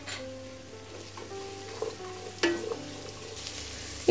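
Sliced onions stir-fried in a pan with ginger garlic paste and green chillies for chilli chicken, a soft steady sizzle with a few scraping stirs and light clatters, fairly quiet, no talking.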